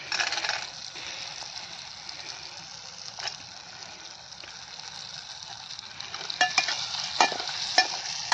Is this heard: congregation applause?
no